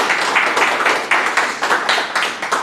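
Congregation in a church clapping together in a loud, dense burst of applause, with a steady wash of hand claps and small rhythmic surges throughout.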